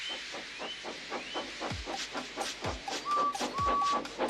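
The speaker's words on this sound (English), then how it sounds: "So they lit his fire, made lots of steam, and Edward puffed away." A cartoon steam engine puffs away in rhythmic, evenly spaced hissing chuffs, with a few short whistle-like tones and chirps sounding in between.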